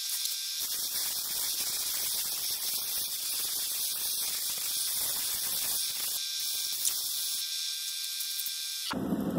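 A lapidary wheel with 280 grit runs dry against a Nacozari turquoise cabochon, making a loud, steady hiss of grinding that continues with brief dips in pressure and then stops sharply near the end.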